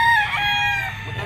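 A rooster crows loudly and close by at a market selling fighting cocks, the long harmonic call carrying for over a second over a murmur of market noise.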